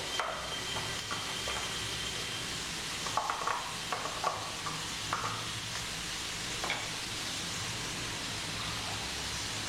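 Ground coconut paste goes into a peanut curry and sizzles as it is stirred, with a steady frying hiss and scattered scraping stirring strokes close by.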